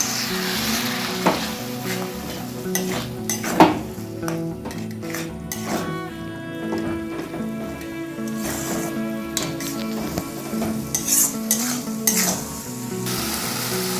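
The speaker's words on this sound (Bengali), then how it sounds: "অল্প অল্প করে দিয়ে মশলাটাকে আমি ভালোভাবে কষে নেবো" Spice masala for a Bengali mutton curry is stir-fried in a pan while water is added a little at a time. Loud, continuous sizzling and frying sit under frequent scraping, clattering stirs of the spoon against the pot.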